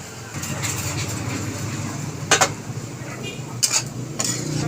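Two brief metallic clanks of a lid set onto a pot of simmering chicken adobo with liver and gizzards, close by over a steady low kitchen hum.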